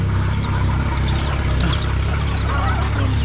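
Chickens are fed outdoors, with busy clucking and honking from the flock over a continuous loud background rumble, all crowded together with no clear breaks.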